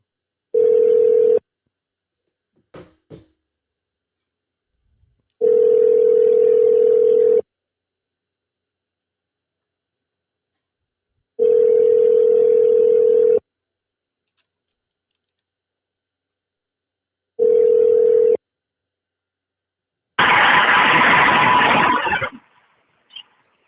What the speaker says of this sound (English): I'm calling HETV